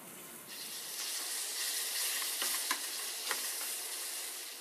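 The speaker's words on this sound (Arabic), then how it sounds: "الحين على النون ستيك بان راح أحط الدجاج" Chicken frying in a nonstick pan gives a steady, close, broadband sizzle with a few faint stirring clicks and no talking.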